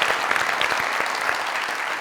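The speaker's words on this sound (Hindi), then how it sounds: "अरे तालियां" A burst of lively studio audience applause on a comedy talk show, with dense, fast clapping held at a steady level throughout.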